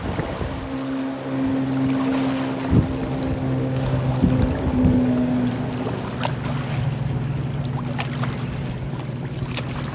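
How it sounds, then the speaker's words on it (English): A Yamaha FSH 190S fiberglass fishing boat with a 200 horsepower Yamaha outboard running on the water, a steady engine drone with tonal hum, water rush and wind buffeting across the microphone. "as you just saw, this is a very fun boat to take out on the water"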